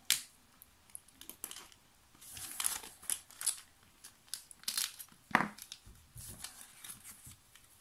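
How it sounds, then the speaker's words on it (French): Paper envelope from Scrap Didi torn and opened up close, a run of crinkling, ripping and snipping bursts with crisp paper handling, no talking. "Ensuite, on va ouvrir l'enveloppe"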